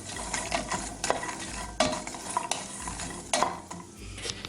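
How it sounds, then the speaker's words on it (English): A spoon stirs ground cinnamon through a mixture in a pan on the stove, giving repeated scraping strokes with light clinks against the pan under a soft sizzle, all close and moderately loud. "Next thing I'm going to do is add some ground cinnamon. Give it a good mix."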